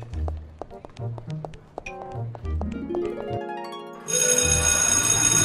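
A mobile phone ringtone starts sharply in the last second and a half, loud and sustained, after a stretch of tapping and melodic toy-scene sounds with a little talk.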